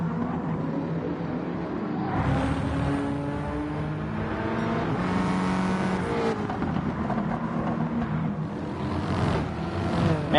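Mustang touring cars race hard around Brands Hatch, engines roaring loud and close throughout with rising and falling revs as cars push through corners, a continuous layered racing drone with no talk.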